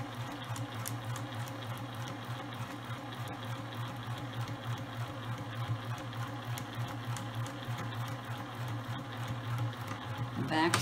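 A sewing machine stitches the pocket of a zipper tote bag, running as a continuous steady mechanical whir with fast rhythmic needle chatter, fairly quiet and close, with no talking.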